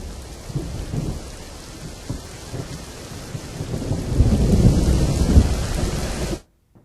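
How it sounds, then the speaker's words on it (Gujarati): Heavy rain pours down in Gambhoi, Himmatnagar, Sabarkantha, Gujarat, in a dense, continuous roar, growing louder toward the end before cutting off abruptly. "સાબરકાંઠાના હિંમતનગરના ગાંભોઈમાં વરસાદ."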